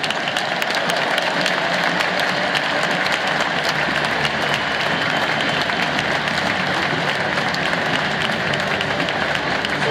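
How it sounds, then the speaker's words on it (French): A stadium crowd at a PSG–Troyes football match stands and applauds the band of the Paris police orchestra during a tribute, dense sustained clapping and crowd roar filling the space continuously and loudly. "je vous demande de vous lever et d'accueillir en applaudissant l'orchestre de la musique"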